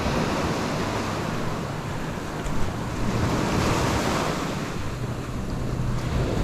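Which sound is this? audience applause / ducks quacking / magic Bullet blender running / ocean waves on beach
ocean waves on beach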